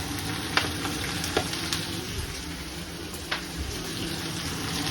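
Spinach wilting in a hot pan for palak paneer fries with a steady, close sizzle, broken by scattered sharp pops and crackles.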